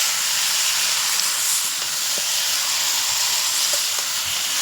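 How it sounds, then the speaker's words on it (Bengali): Marinated chicken sautés in oil with cumin and bay leaf in a kadai, producing a loud, unbroken hiss of sizzling close by with no talking. "দেখো বন্ধুরা, দেখতেই পাচ্ছ আমরা কত সুন্দরভাবে চিকেনটাকে কষাচ্ছি।"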